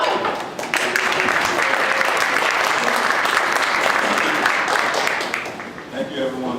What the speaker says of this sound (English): In Dallas, we stand and we give a round of applause to welcome our both presenters